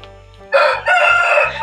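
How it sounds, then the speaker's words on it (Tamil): A large-breed village rooster crows loudly and close by, a single drawn-out call lasting just over a second that breaks into several bursts after a brief quiet lead-in. "எங்கள் சித்தப்பா பெருஞ்சாதி சேவல்கள் எல்லாம் வளர்த்திட்டு இருக்காங்க ஃப்ரெண்ட்ஸ்."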